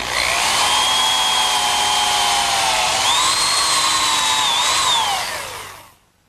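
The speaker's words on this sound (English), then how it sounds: "Next, I'll drill some holes to secure the joint with some dowel pins." A power drill bores dowel holes through a wooden harvest table joint, its motor whining loud and close for about five seconds, rising in pitch midway, then spinning down to silence.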